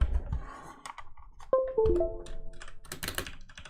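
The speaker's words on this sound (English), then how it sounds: "new keyboard" Keys clatter on a replacement computer keyboard in irregular bursts of close, sharp clicks, with a couple of heavier thunks and brief tonal beeps mixed in.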